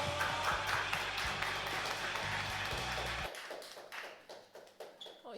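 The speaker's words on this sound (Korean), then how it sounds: "와, 계속 박수 치세요." Audience clapping at a church youth Sunday service while newcomers are welcomed, dense and sustained at first, then thinning into scattered claps after about three seconds.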